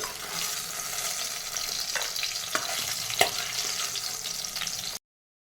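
Green chillies and coriander seeds fry in a pan with a steady close sizzle, a few sharp stirring clicks breaking through before it cuts to silence.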